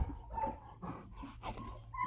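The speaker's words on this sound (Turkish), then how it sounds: "Değişik bir köpek." A dog on a farm in Burdur, Turkey, whimpers in a few soft, close, high-pitched whines spread across a couple of seconds, with no other voices.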